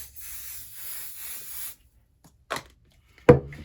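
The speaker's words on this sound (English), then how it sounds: "You want to make sure that you're not getting the spray-based adhesive spray on any surface that you don't intend to" Spray-based fabric adhesive misted from a can while assembling a quilted scrap-fabric tote bag: a soft, steady hiss running for almost two seconds, then quiet broken by two short, sharper bursts near the end.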